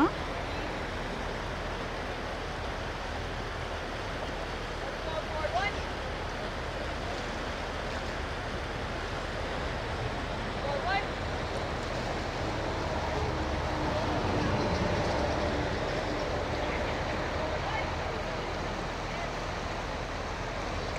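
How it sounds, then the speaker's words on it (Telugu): A strong water stream rushes with a steady, broad, unbroken roar throughout, with faint voices now and then. "సో వాటర్ స్ట్రీమ్ కూడా చాలా స్ట్రాంగ్ ఉంది ఇక్కడ ఇప్పుడు."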